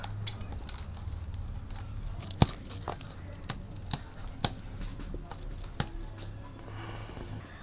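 Boiled sweet potatoes are mashed by hand for pantua, giving soft squelching, tearing and crinkly sounds with a few sharper close taps, fairly quiet and steady with no voice.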